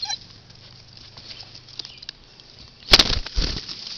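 A partridge flaps its wings in a short, loud burst of rustling near the end, with a second quieter flurry just after, following a few seconds of faint background noise.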